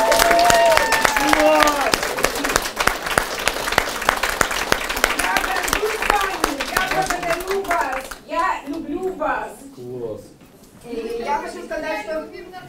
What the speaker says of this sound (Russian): И это достойно аплодисментов.